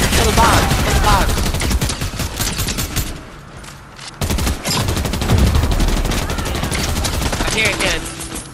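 Gunfire in the video game Fortnite, including shotgun blasts, with rapid repeated shots and loud game action almost throughout, a brief lull midway, and excited voices talking over it.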